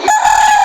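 A rooster crows loudly and close by at a livestock auction market in Padre Garcia, one sustained, strained call that holds steady for the whole moment.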